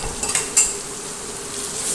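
Okra cooking in hot oil as chutney is added, a few quick clinks of utensils and a sharp spoon tap near the start, then a steady close sizzle with no talking.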